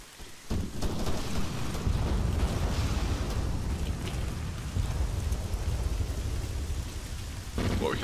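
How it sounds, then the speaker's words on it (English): Salvos of mortar rounds exploding in ArmA 3, rolling as a dense, continuous rumble of distant blasts, one booming swell after another with no clear gaps. "So this is mortar, 4 salvos of mortar incoming."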